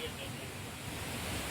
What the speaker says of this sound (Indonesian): Kami sekarang berada di tepian sungai